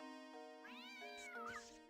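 A cat in the Professor Layton and the Curious Village video game gives a single drawn-out meow with a rising then falling pitch, clear and alone over faint background music.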